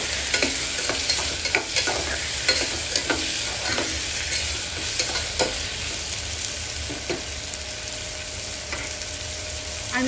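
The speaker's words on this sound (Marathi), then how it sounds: "चांगलं मस्त असं फ्राय होऊ द्या" Green chilies and tomatoes fry and sizzle in a pan for chicken pulao, with a steady hiss running throughout and repeated scraping, clattering strokes of a spoon as the mixture is stirred, fairly close and with no talking.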